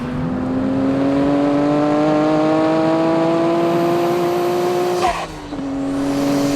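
Close and loud, a Nissan GT-R NISMO 400R engine revs steadily higher for about five seconds, dips briefly at a gear change, then climbs again, with no voices.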